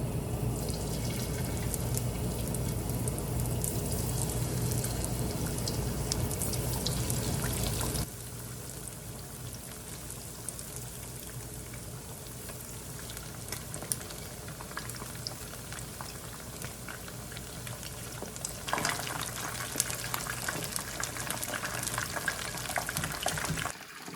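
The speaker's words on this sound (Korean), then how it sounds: "제가 이거 튀겨볼게요." Soy garlic chicken pieces deep-frying in hot oil, with a dense continuous sizzle and crackle close by that drops to a softer, steadier bubbling partway through.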